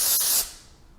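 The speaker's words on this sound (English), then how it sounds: "this spray, the dry volume and texture spray" Dry volume and texture hair spray gives one short, close, loud hissing burst from an aerosol can that cuts off abruptly and leaves a faint fading tail.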